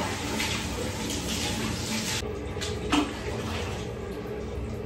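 Lukewarm tap water pours and splashes steadily while a pet is bathed, a close, continuous rushing stream that thins briefly partway through before flowing on.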